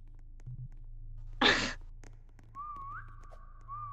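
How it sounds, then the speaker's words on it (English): Someone whistles a short rising and falling tune inside an IKEA store, faint and brief after a sharp breathy burst, with quiet room noise around it. "Who whistled? Who's whistling?"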